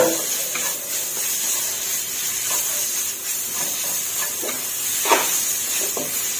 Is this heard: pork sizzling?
yes